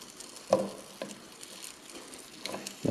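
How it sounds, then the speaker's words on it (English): Rainbow trout sizzling and crackling in hot oil in a pan, with soft pops and spatters over a quiet background. "Getting some sizzle here."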